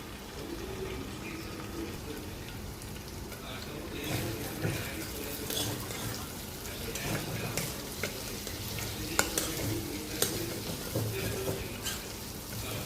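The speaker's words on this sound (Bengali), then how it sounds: "চিংড়ি ভাজাটাই কম আছে ভাজিয়ে নিব আগে" Prawns fry in a pan with a continuous moderate sizzle, broken by intermittent clinks and scrapes of stirring and a few sharper knocks.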